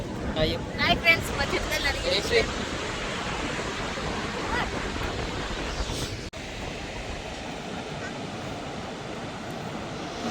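Constant roar of heavy falling water at Niagara Falls, broad and loud, with people talking over it early on before the rush continues alone.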